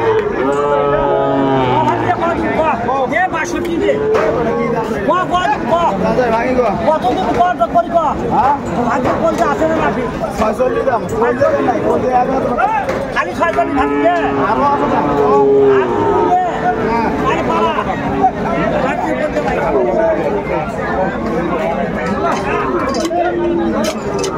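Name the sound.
Sahiwal breed bull calves and cattle at a livestock market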